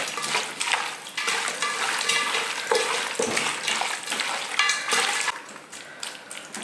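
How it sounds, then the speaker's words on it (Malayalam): Chicken pieces mixed with about three tablespoons of yogurt for a chicken curry give a steady, close, wet squelching and sloshing that runs without a break and with no talk. "ഒരു മൂന്ന് ടേബിൾ സ്പൂൺ തൈര് അത് ഒഴിച്ച് കൊണ്ട് നല്ലോണം മിക്സ് ചെയ്യാം"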